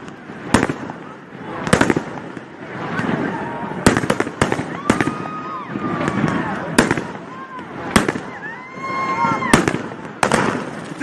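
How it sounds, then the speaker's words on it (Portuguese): Fireworks go off repeatedly during a political rally in Brazil, with sharp, loud bangs at irregular intervals, some whistling rockets, and crowd voices and shouting running underneath. "Olha o ângulo dos fogos, seus bandidos!"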